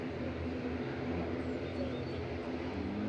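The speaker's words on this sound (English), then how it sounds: "Got this noisy prop in front of us." A noisy propeller aircraft close by at Manchester Airport, a steady loud drone with a low rumbling hum that holds evenly throughout.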